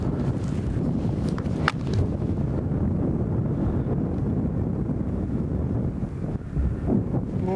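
Steady wind gusts across an open golf course, a continuous low rumble buffeting the microphone throughout, with no talk.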